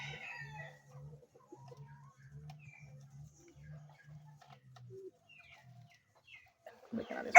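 A labuyo jungle fowl rooster crows and clucks at close range, with short repeated low calls in an uneven rhythm, fairly faint overall, ending with a louder burst of noise.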